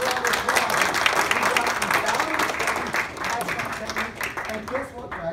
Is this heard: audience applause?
yes